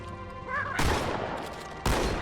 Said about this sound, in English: Shotgun just doesn't have the same pop to it that the first game had